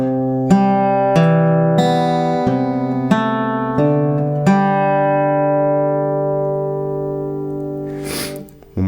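Slow fingerstyle acoustic guitar playing the opening measure of a song, with six or so plucked notes and chords ringing in sequence, then a long sustained decay before a brief handling noise at the end.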